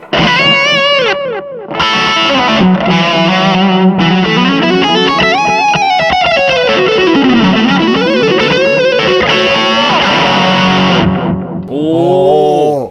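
Electric guitar run through a Limetone Audio buddy delay pedal with distortion, sustained chords and single-note lines trailing long, spacious echoes with softened highs, loud and continuous, ending with a brief strummed flourish.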